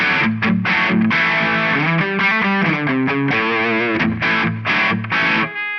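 Heavily distorted electric guitar through a TONEX Brit Silver OD1 Dark amp model plays crunchy chords and riffs, loud and saturated, with choppy rhythmic stops and a short ringing tail at the end.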